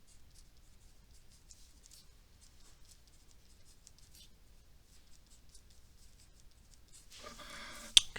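Pen or pencil writing on paper during a geometry lesson, faint soft scratching strokes in short bursts, close and quiet, ending in a louder rustle of paper.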